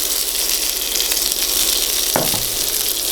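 Prawns sizzle in a pan with a steady, loud, hissing crackle throughout, close up, with one brief clink of metal partway through and no talking.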